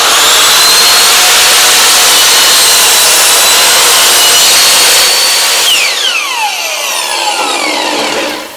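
Power saw making a mitre cut in a piece of wood for a dorade box, a loud, close, continuous cutting whine for about five seconds, then the blade spins down and fades away.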